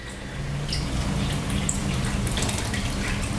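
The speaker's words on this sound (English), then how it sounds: "we're going to add in 333 of cold water" Cold water pours steadily into a bowl for pizza dough, a close, continuous splashing stream with small bright droplet sounds on top.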